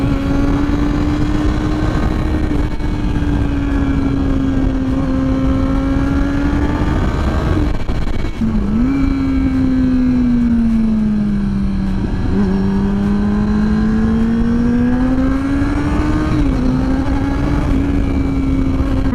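A sportbike engine while riding, a loud, steady droning note that rises and falls gently in pitch, with brief dips where the revs change, heard close and without pause.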